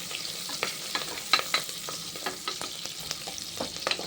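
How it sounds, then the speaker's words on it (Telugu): Chopped onion and curry leaves frying in a pan, a continuous bright sizzle with frequent crackling pops and light scraping stirs, close and fairly even throughout. "ఇప్పుడు మనం ఉల్లిపాయ, కరివేపాకు మంచిగా వేయించుకుందాం."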